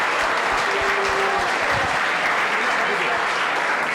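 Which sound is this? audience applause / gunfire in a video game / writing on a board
audience applause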